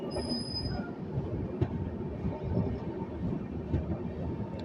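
Express train from Visakhapatnam to Mahabubnagar running and slowing down, heard from aboard as a steady rumbling roar with faint wheel clatter and occasional high wheel squeals.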